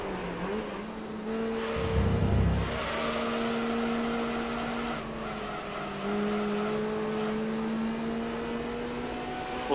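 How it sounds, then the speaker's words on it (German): A VW Lupo's engine in the racing game Gran Turismo 3 drones at sustained high revs with steady tonal whine, shifting pitch slightly a few times, alone and fairly loud. "Hochdrehender Motor,"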